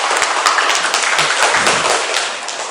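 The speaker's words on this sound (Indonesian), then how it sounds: "Ya, tepuk tangan." Classroom of schoolchildren clapping hands together, a dense steady patter of many small claps that holds loud throughout, with a few sharper individual claps standing out.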